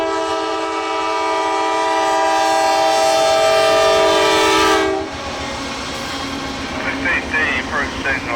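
Norfolk Southern train blowing a long, loud, sustained horn blast at the Island Ford Road crossing near Route 340, then the rumble and clatter of the passing cars, with a crossing bell chiming faintly toward the end.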